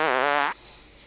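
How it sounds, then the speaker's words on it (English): A short recorded fart plays back, a single buzzy, wobbling blast lasting about half a second and then cutting off into quiet room tone. "for a big man, that's a small fart"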